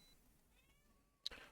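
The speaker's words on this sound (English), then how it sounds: "Apologies if you can hear my cat meowing in the background" A single short cat meow near the end, after a stretch of quiet background, sounding a little distant.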